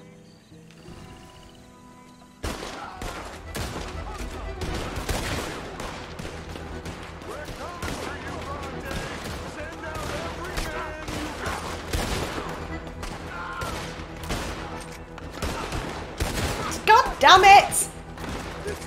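Repeated gunshots crack out in Red Dead Redemption 2, a steady run of sharp reports with a dense burst of fire near the end, while a player talks over them.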